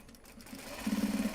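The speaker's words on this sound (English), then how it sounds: "finish the top stitching and start the sewing of the exteriors." A sewing machine topstitching Japanese fabric for a project bag, a faint soft hum at first, then a louder run of rapid, even stitching pulses in the second half, with no talking.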